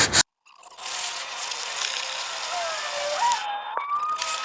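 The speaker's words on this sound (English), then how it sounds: "Got a little soft foam pad right here with some 320 grit sandpaper on it. We're just going to smooth out this primer." Primer on a car body panel is sanded by hand with 320 grit sandpaper wrapped over a soft foam pad, making a close, steady, hissing rub that runs almost the whole time after a brief knock and a moment of silence.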